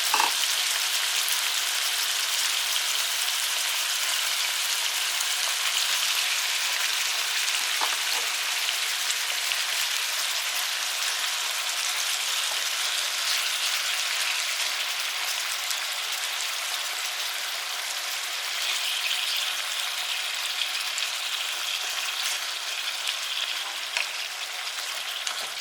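Monkfish frying in butter in a pan gives a steady, dense sizzle that holds at an even level throughout, close and fairly loud, with no voices over it.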